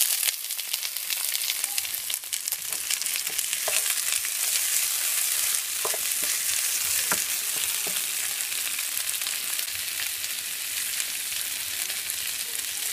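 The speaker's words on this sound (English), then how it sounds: "Stir fry it like around not more than 2 minutes" Red and green peppers being stir-fried with browned onions: a loud, continuous hissing sizzle throughout, with occasional soft stirring scrapes and clicks, and no one talking.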